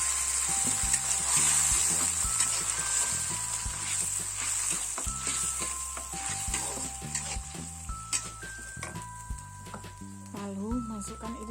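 Ground spice paste for spicy anchovy sambal sizzles steadily in a pan, with stirring clinks throughout and background music running under it.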